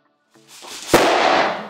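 An orbs balloon bursts with a single sharp, loud pop while being inflated with a hand pump, after a brief rising hiss of air.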